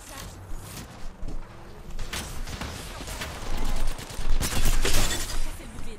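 Video game gunfire rattles in dense, uneven bursts of shots against a busy mechanical background, building louder toward the end, with no talk.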